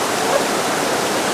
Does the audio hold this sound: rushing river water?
yes